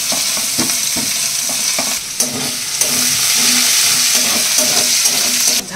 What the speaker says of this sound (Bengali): এই যে ফ্রাইড রাইসটার জন্য একটু পেঁয়াজও দিয়ে দেবো।